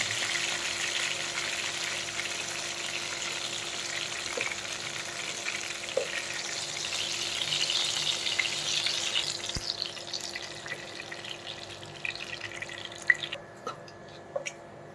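Rohu fish fries in hot oil with a steady, close hiss and crackle, fading somewhat near the end as scattered pops and ticks stand out; no talking.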